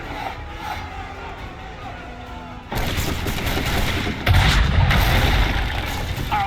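Assassin's Creed 3 battle in colonial America: heavy musket and cannon-like blasts rumble over crowd noise, growing louder midway with a strong boom near the end, voices in the din.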